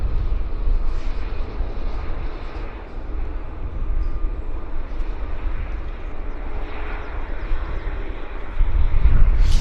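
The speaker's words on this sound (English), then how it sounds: "Just monstrous engines on this airplane." Heavy, steady jet-engine roar from a large airliner at Vancouver Airport fills the whole stretch, loud and broadband, swelling slightly near the end with no voices over it.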